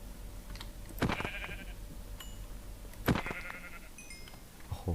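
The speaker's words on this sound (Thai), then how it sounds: "ฆ่าแกะแถวนี้แล้วกัน เพราะว่าแกะแถวนี้เกิดบ่อยอยู่ละ" Two loud sheep bleats ring out about two seconds apart in Minecraft, over a busy low game background with faint keyboard clicks.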